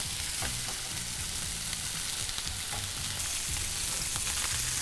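Burger patties fry on a hot grill pan for homemade burgers, giving a steady, close sizzle and crackle that fills the whole stretch with no voices.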